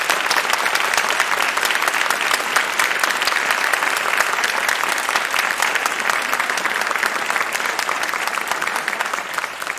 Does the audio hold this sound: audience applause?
yes